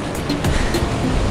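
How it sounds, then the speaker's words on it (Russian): Ocean surf on a Sri Lankan beach, a short rushing wash of a breaking wave, loud and close, with faint bursts of spray. "Волна идет. Волна идет"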